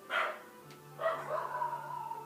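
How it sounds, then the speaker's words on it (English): A dog somewhere outside in the early morning gives two barks. The first is short and the second is drawn out into a whiny yelp, both fairly faint and distant with no talking. "that dog needs to learn to shut up, especially this early in the morning"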